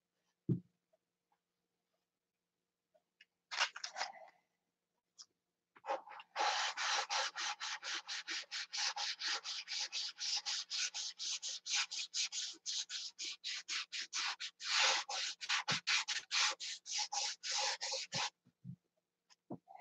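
Hand sanding of a plastic piece: rapid, rhythmic back-and-forth rasping strokes, close and fairly loud, running steadily for about twelve seconds after a few tentative scrapes, with no talking.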